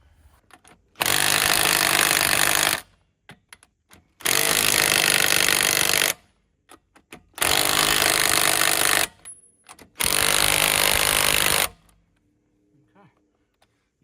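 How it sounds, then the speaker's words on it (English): An impact wrench with a chrome socket hammers loudly at close range while brake parts come off a Chevy Avalanche, four separate rattling bursts of about two seconds each, split by quiet gaps with small clanks and a few brief words. "Robbie, we are using a chrome socket on an impact."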